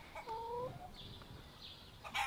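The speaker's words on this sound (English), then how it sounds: "Now we only have 3 chickens. One is over here." A chicken gives a few short clucks and a brief squawk nearby, faint and quick, over a quiet background.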